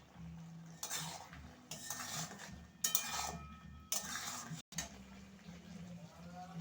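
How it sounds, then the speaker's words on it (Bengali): A spoon scrapes and clinks around a bowl as salt is stirred into a chili chicken mixture, with steady metallic taps and scraping close by and a low background hum. "মিশিয়ে নেব লবণটা।"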